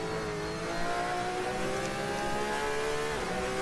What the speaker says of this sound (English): this Porsche 911 RSR with the upgraded exhaust really screams from the cockpit sound